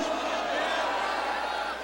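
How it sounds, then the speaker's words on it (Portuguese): A church congregation roars at a Portuguese-language worship service, shouting and cheering together in a dense, sustained wash of many voices with no single speaker standing out. "faça um barulhão aí para a glória de Deus"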